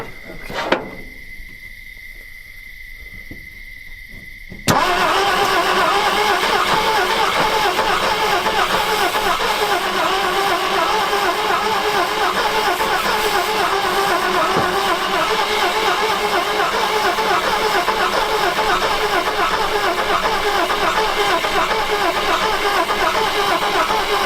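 An abandoned panel truck that has sat for 40 years cranks and its engine catches after a few seconds of quiet, then runs loud and steady at a rough idle for the rest of the time.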